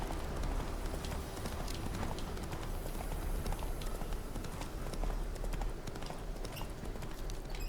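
In The Witcher 3, a horse gallops with a steady, rapid clip-clop of hooves, loud and continuous under game ambience, with a faint voice briefly present.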